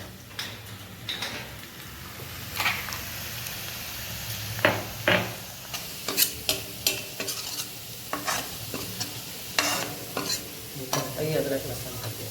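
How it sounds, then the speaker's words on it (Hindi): Onion, tomatoes, masala paste, garlic and ginger fry in a pan for chole, with steady sizzling under repeated spoon stirring and scraping clicks, close by and with no talking. "Самое первое надо жарить лук, помидоры, масала, паста, чеснок и имбирь."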